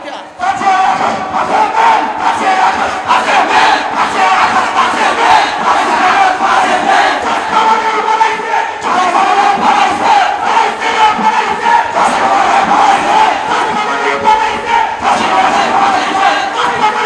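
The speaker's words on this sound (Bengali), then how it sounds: "স্লোগান লাগাও, 5ই আগস্ট, 5ই মে।" A large crowd at a political rally in Bangladesh chants slogans in loud unison, the massed voices rising and falling in a steady rhythmic call that fills the whole stretch.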